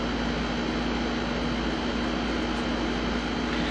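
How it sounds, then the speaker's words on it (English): An extra-loud air conditioner running indoors in hot weather, giving a steady, unbroken roar close to the microphone with no other sounds. "It's my extra loud, annoying air conditioner"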